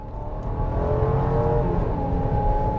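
A 2021 Jeep Grand Cherokee L with four-wheel drive and a V8 engine accelerating, its steady engine drone building and holding strong, heard from inside the cabin with no talk.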